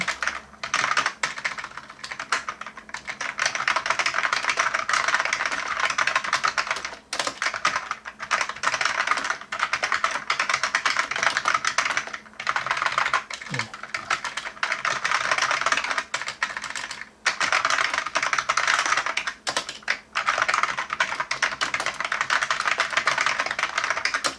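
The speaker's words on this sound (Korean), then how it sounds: "타이핑을 제가 좀 더" Fast, continuous typing on an NKEY P1 keyboard, a dense clatter of key presses heard up close and alone, pausing briefly now and then.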